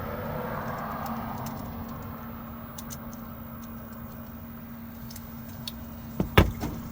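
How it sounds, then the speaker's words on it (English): A car key blank is handled during GM door lock work, soft metallic shuffling and then a brief jangle of keys near the end, close but quiet, over a steady low hum. "So I'm gonna grab a key blank here, just bear with me."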